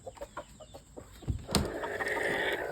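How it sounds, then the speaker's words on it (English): Hens cluck in short, uneven bursts inside an Ayam Cemani chicken pen at a backyard hatchery, close and moderately loud, building into a denser, continuous chorus of clucking and fowl calls toward the end. "4 broody hens, of course."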